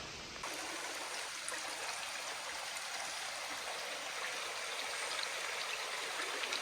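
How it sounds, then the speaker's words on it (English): A brook flows steadily nearby, a constant rushing, babbling wash of water with no voices, even in level throughout. "Super pretty brook."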